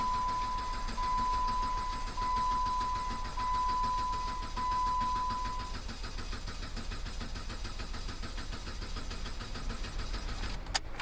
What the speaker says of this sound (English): so let's try cranking this again